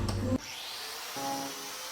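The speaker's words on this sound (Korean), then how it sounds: "전동사포로 2차 다듬기를 하다 보니 밤이 되었어요." Electric sander whirring against a wooden surfboard during shaping, a loud burst at the start then a steady motor drone with tonal hum, fairly close.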